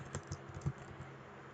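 Typing on a computer keyboard while writing Python code: a few soft, irregular key clicks, quiet and close, with no talking.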